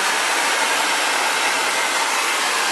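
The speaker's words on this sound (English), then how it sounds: "this is the first blow dryer" Xtava Allure ionic ceramic hair dryer blowing steadily close up, a loud continuous broadband whoosh with an even airflow roar throughout and no talking.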